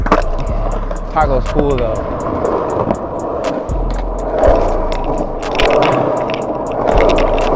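A skateboard's wheels roll and rattle over a choppy pyramid at a skatepark, making a continuous rough grinding rumble with clacks and bumps, while a person talks over it.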